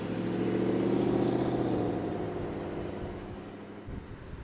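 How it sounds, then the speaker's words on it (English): A Mercedes car pulls away and drives off into the distance, its engine hum loudest early on, then fading steadily as it recedes. "So that's my car going off in the distance."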